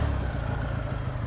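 A Triumph motorcycle engine with AMAL carburettors runs steadily close by, a low throbbing rumble that holds at an even level without talk.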